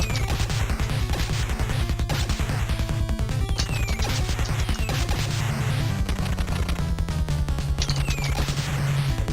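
Rapid machine-gun fire and repeated grenade explosions from the NES game Jackal crackle in dense, continuous bursts of chiptune-style noise over steady 8-bit background music.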